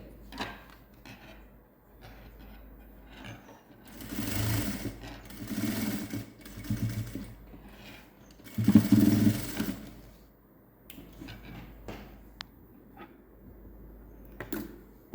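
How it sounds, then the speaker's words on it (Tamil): Sewing machine stitching a puff sleeve for a long gown made from an old silk saree, running in several bursts of steady motor whir, with the loudest stretches in the middle and quieter handling noises between runs. "இதுக்கு ஒரு பஃப் கை பஃப் கை தான் ஸ்டிச் பண்ண போகிறோம்"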